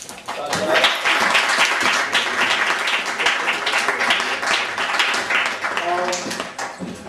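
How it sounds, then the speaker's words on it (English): Audience at an open mic performance night in a Newark community venue clapping and cheering, a loud burst of applause that gradually thins, with voices mixed in. "Let's clap it up for coming for the second round."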